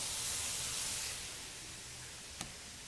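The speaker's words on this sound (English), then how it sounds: "whenever you hear this, you already know bacon's frying" Steady sizzling hiss of bacon frying in a pan, fairly faint and even, with one brief tap near the end.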